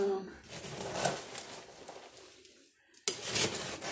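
A bucket of nuts is stirred, giving loose clattering and rattling of shells knocking together, fading into near silence before a sharp burst of rattling resumes near the end, with a voice briefly heard.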